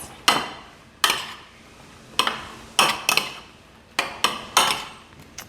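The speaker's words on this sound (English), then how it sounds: "3 spoons of the marinade and give this a toss" Eggplant is tossed with marinade in a bowl, giving a series of separate sharp clinks and knocks, about seven in five seconds, close and alone with no talking.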